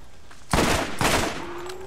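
Combat rifle fire in the video game Borderlands: two loud, close bursts of shots about half a second apart, each trailing into a short rumble.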